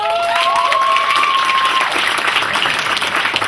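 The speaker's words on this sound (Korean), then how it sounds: "박수 한번 부탁드릴게요" An audience at a university student talk applauds steadily, loud and close, a dense continuous clapping that carries on throughout, with a brief whistling tone early on.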